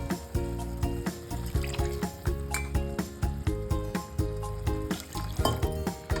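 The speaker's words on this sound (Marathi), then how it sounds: "आता मी ज्या वाटीने मी रवा मोजलेला आहे त्याच वाटीने मी 2 वाट्या पाणी टाकून घेते" Water poured from a bowl into a pan of steamed vegetables for tomato rava upma: a loud, close, continuous splashing pour with clinks of metal against the pan.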